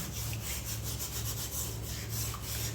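An old, blackened iron kadai being scrubbed clean by hand, a steady close rubbing and scouring that runs continuously with a low hum underneath.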